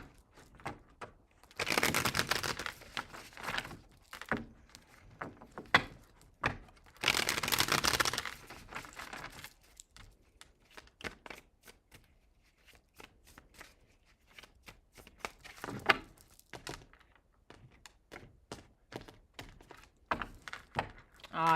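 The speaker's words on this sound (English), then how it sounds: "2 more shuffles." Tarot cards shuffled in several bursts, loud riffling rushes near 2 and 8 seconds, then quieter scattered card taps and shuffles with a voice speaking intermittently.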